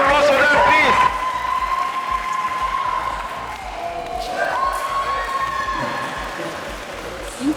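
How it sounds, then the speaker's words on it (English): A round of applause from the crowd at a large speed dating event with fifty singles, a loud burst of clapping at the start that settles into lighter crowd noise while people talk over it. "Round of applause for them,"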